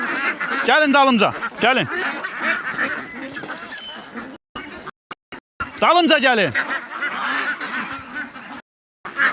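Ducks honking and quacking close by in Phong Nha, Vietnam, in a few loud bursts separated by pauses, while someone talks over them.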